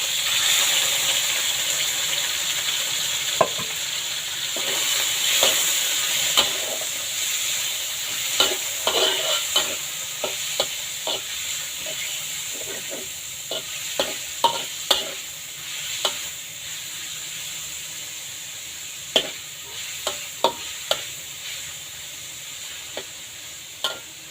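Pork and Chinese cabbage stir-fried in a pan: a steady close sizzle with frequent sharp clinks and scrapes of a utensil stirring, no voices.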